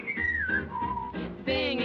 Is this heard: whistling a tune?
yes